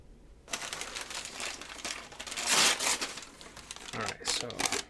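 Paper crinkles and rustles up close in uneven bursts as it is handled for testing a freshly sharpened fillet knife, with a brief louder crumple partway through.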